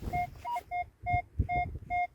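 A metal detector gives a series of short, repeated electronic beeps at a steady pitch, six or seven tones in quick succession, over faint handling noise.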